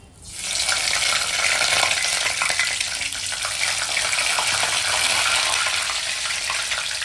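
Curry leaves hit hot oil in a pan for a prawn masala, bursting into a loud, dense, steady sizzle that holds close and continuous with no talk.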